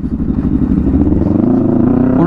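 A Yamaha MT-03 motorcycle engine runs close by with a throaty, pulsing note, its pitch holding steady then climbing sharply at the end as the throttle opens.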